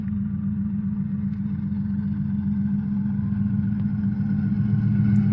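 A very long freight train with two locomotives at each end rolls past in Edmonton, a steady low rumbling drone that holds even and unbroken throughout, with no talking.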